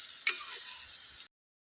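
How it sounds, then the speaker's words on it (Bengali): Spice paste with whisked yogurt being sautéed for chicken kasha with green chillies, a soft steady sizzle with one spoon tap at the start, then abrupt silence. "দিয়ে এটাকে আমি মশলাটাকে কষিয়ে নেব"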